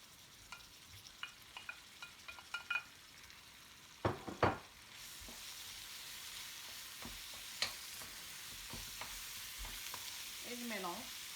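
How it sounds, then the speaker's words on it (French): Minced meat added to caramelizing onions in a pan and stirred, a faint soft sizzle that rises after a few utensil knocks, with scattered scraping clicks over the quiet frying. "j'ajoute la viande hachée"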